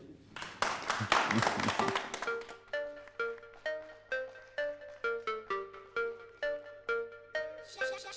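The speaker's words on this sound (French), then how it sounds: "Merci de l'applaudir." A TV studio audience claps briefly for a musician on a live entertainment show, a two-second burst of applause that gives way to a bright, evenly pulsing melodic tune.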